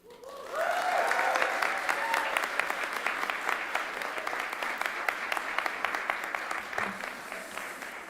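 An audience at a Portland sports product management program commencement breaks into sustained applause welcoming the speaker, a loud, even wash of clapping with a few cheers that holds steady for several seconds.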